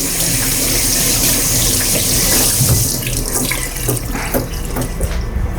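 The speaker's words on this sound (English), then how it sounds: "Just want to give them a quick rinse." Green beans rinsed under a running kitchen tap, a steady close rush of water splashing into a sink that continues for several seconds without speech.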